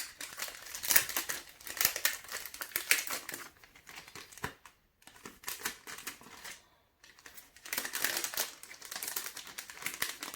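Packaged wrapping around a junk journal is opened up close, a run of crisp crinkling and rustling plastic in busy bursts, briefly pausing twice before resuming.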